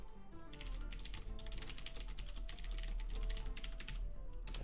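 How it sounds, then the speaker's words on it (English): Fast typing on a Cherry MX Blue mechanical keyboard, a dense run of loud, sharp clicky keystrokes close up, continuous with no voices. "Downside about having a Cherry MX Blue keyboard if you're doing content production is that it's loud"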